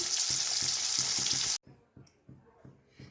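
Hilsa fish fries lightly in oil with a steady close sizzle and soft regular knocks. Midway the hiss cuts off abruptly, leaving only quiet intermittent thumps.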